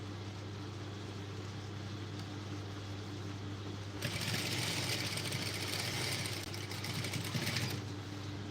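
A sewing machine stitches a blouse, a steady low mechanical hum running throughout and growing louder and busier in the middle stretch before easing back.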